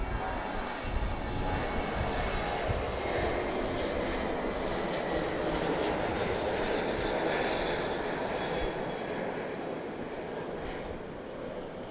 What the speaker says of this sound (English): So we get Southwest Airlines departing here.